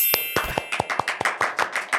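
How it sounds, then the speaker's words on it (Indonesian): Sparse, uneven claps in a podcast studio greet a guest named Iksan on a horror-story show, a handful of sharp separate hand strikes spread across two seconds, fairly close and with no talking. "Jadi tepuk tangan buat teman gue Iksan."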